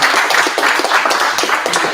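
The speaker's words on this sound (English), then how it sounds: "All right, round of applause for David." A small meetup audience claps for a data engineering speaker, a close, moderately loud burst of hand claps with a slightly uneven rhythm, held steady for a couple of seconds without talking.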